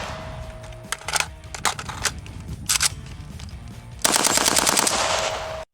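AK-12 rifle firing in rapid bursts, sharp close cracks spaced through the first seconds, then a sustained loud full-auto string to the end.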